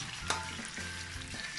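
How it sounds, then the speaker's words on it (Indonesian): Bakso meatballs frying in oil until the skin turns slightly crisp, a dense continuous close sizzle with a few soft knocks, brief and without talk. "Nah ini digoreng sampai ada kulitnya ya, sampai kulitnya sedikit matang, sedikit kering."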